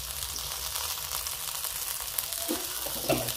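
Chili being stirred in hot cooking oil, a steady close sizzle and frying hiss with a few soft spoon scrapes toward the end.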